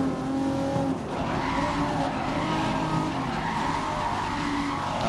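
Race car tires skidding and squealing in the racing video game GRID, a steady loud screech over engine drone that lasts throughout.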